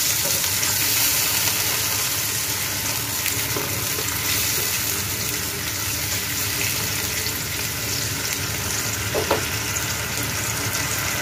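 Water poured into browned fried ginger paste in a pan for a village-style tengra fish and eggplant curry, producing a loud, steady hiss and bubbling sizzle that holds throughout with a brief clink near the end.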